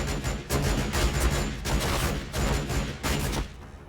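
Bolt pistols fire in the video game Warhammer 40K Battlesector, heard as a dense, rapid volley of overlapping loud shots and bursts that continues almost without pause, with no talk.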